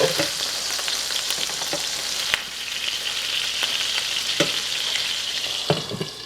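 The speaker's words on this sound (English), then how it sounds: "when you're cooking hamburgers, especially when you're doing it inside, I like to go ahead and put a little pat of butter right on top there" Smash burger patties with a pat of butter on top sizzle and spit steadily on a hot surface, with a few sharp clicks and taps of a spatula over the continuous frying hiss.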